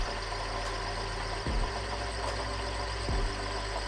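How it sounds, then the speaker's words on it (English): A small metal lathe turns a tiny brass cup for a cosmopolitan glass with its spindle held slow at 500-600 RPM. The motor hum is steady and close, with two brief low thumps along the way and no voices. "I have my spindle running pretty slowly. It's around 500-600 RPM"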